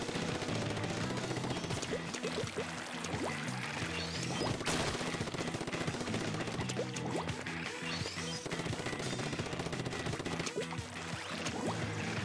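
Continuous rattling Gatling gun fire in the Splatoon video game, dense and sustained over busy game music and splattering effects, with no talk.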